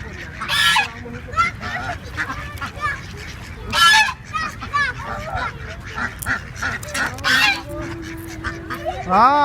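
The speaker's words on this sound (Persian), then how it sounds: "اونجیم بسیار مرغاوی است و قدی کبوترا." Ducks and pigeons at Karachi Safari Park: a busy flock keeps up repeated loud honking and quacking calls in irregular bursts, close by over an outdoor background murmur.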